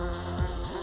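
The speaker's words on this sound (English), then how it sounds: "I thought you said your bees wouldn't sting me." Bee buzzing close by in a brief, wavering drone whose pitch dips and rises as it moves.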